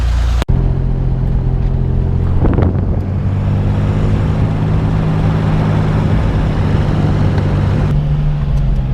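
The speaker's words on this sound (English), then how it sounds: "here we are out driving around the Corvair" A 1965 Chevrolet Corvair Corsa Turbo with a four-speed drives along, its engine droning steadily with a brief sharp knock early on and a rise in revs partway through, under wind noise inside the car.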